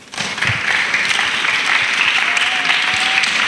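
Steady, full applause from a church congregation that includes children, sustained and fairly loud throughout with no voices over it.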